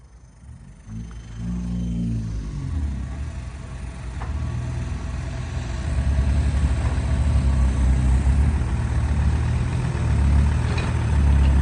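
A heavy tractor engine rumbles steadily at an earth pit and grows louder and deeper as it revs, a close, continuous low drone with no voices.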